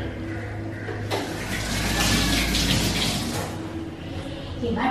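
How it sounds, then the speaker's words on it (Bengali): Water runs from a kitchen tap over washing hands, a broad rushing splash that swells in the middle and then eases, close and steady. "হাতটা ধুয়ে নিই।"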